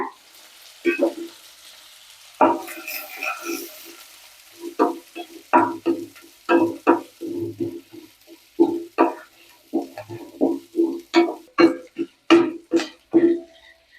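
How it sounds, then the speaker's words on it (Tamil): Cinnamon, cloves and Kashmiri chillies are sautéed in a pan, with repeated stirring scrapes and short bursts of sizzling in an irregular rhythm, close and moderately loud. "எல்லாத்தையுமே ஒட்டுக்கா போட்டு நல்லா ஒரு வணக்கிடலாங்க."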